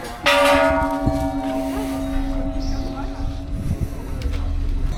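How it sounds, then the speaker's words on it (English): A big gong is struck at a temple in Bangkok, ringing out with a long sustained resonant hum and shimmering overtones that slowly decay, with some background noise and movement. "Everybody wants to bang the big gong."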